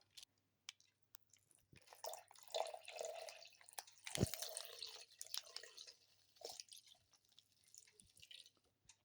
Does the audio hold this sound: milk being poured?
yes